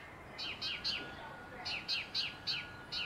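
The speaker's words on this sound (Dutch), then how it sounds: "Hoor de vogeltjes fluiten" Small birds chirp in short repeated bursts, a few quick tweets at a time, moderately close against a quiet outdoor background.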